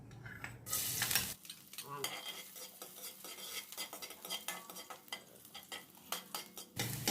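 Garlic sizzles in hot oil in a pan, a bright burst of frying at the start and again at the end, with frequent clinks and scrapes of a utensil stirring in between.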